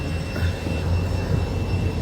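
Steady roar of a private jet's engines, a broad continuous whine and rumble at moderate level with a thin high tone on top, running without a break and no talk.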